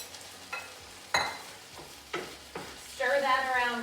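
Beef and garlic stirred in marinade in a pan over the lowest heat, a few separate scraping stirs and soft sizzles in bursts, closing on a brighter, steadier sizzle with no talking over it.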